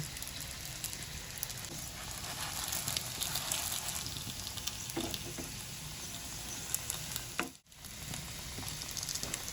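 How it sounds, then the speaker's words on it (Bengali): Momos crackle and hiss steadily as they pan-fry in butter, a dense, even sizzle with occasional spatters and a brief stir-like scrape, close by with no talking. "এবার আমি মোমোগুলো একটু বাটারে ভেজে নেব।"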